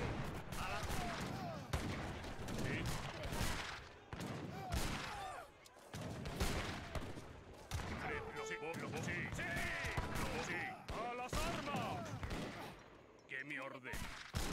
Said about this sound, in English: Fucking Gatling gun.